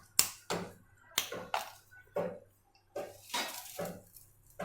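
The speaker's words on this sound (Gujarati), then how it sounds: "આ રીતના બે મોટા ટુકડા આપણે તજના લઈશું તો તેને આ રીતના આપણે કટ કરી લઈશું" Cinnamon sticks are cut into pieces by hand for biryani spice mix, a series of sharp, crisp cracks and clicks spaced unevenly, close and clear against a quiet background.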